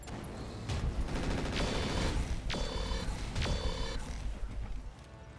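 Mech weapons fire in the video game RogueTech, several sharp, loud bursts and booms spaced a second or so apart, each ringing out over a dense mechanical rumble before it fades.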